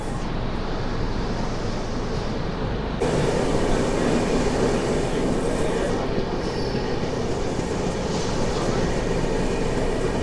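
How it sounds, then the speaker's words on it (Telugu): The Godavari Superfast Express rumbles steadily along the rails, a loud continuous roar with rhythmic rattling from inside the carriage, and a few voices faintly beneath it. "మన ట్రైన్ వచ్చేసి తుని నుంచి అయితే బయలుదేరిపోయింది."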